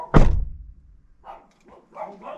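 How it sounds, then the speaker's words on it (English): A single loud bark from a dog lands near the start, then faint yips or whimpers return a couple of times over quiet, with no talking. "He will bark at you for the first half an hour"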